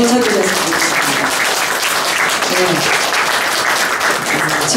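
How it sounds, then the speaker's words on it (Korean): Enthusiastic audience applause for a teacher at a Korean lecture event on international order and the future of Korean reunification; loud, continuous clapping throughout, with a voice faintly audible beneath it. "김철식 선생님께 뜨거운 박수 한 번 더 쳐드렸으면 좋겠습니다."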